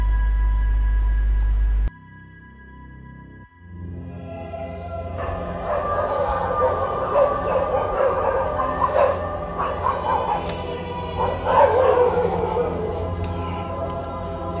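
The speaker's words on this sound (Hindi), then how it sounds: "फिर कुत्ते बड़े ज़ोर ज़ोर से भौंकने लगते थे।" Dogs barking and yipping loudly near a house in Noida, a dense, continuous run of barks with whimpering filling most of the stretch after a brief low hum at the start.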